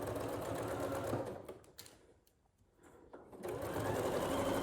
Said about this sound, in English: I'm going to be sewing, all of my seam allowances are a 1/4 inch